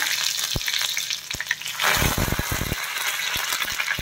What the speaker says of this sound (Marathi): ऑलरेडी तेल तापत ठेवलेलं आहे, मी गॅस बंद केलेला आहे तेल तापलं होतं म्हणून। मोहरी टाकली आहे, त्यानंतर हिरवी मिरची, कढीपत्ता